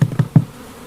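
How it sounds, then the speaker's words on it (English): Honey bees around an open beehive while a frame is shaken off, heard as three short, soft buzzy bursts close by, then a faint hum. "I just shake all those bees off"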